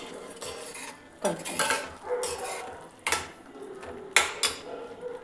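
Fried paneer and masala stirred in a pan, a spoon scraping and clinking against the metal in several distinct bursts with quieter gaps between, close by and with no talking.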